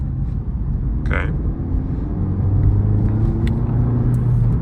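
Interior drone of a Honda Civic Type R FL5 driving on the road, a steady low engine and road rumble that swells slightly as it picks up speed, with no talking.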